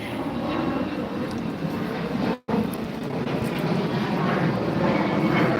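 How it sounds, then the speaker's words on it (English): An airplane passes overhead as a steady, broad engine roar that holds loud throughout, heard outdoors in a yard during sod laying, with a brief dropout partway through. "Ah, airplane."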